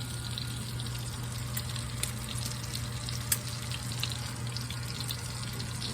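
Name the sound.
bacon strips sizzling while frying in a pan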